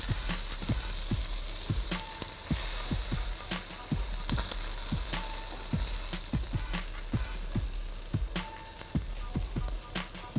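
Shrimp fry in butter sauce in a pan, a steady loud sizzle punctuated by regular scraping and tapping strokes of stirring, close and alone without speech.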